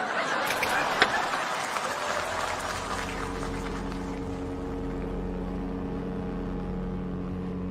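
A ship's engine plays as a sound effect: after a brief burst of noise, it settles into a steady, low, humming drone that stays even and moderately loud to the end.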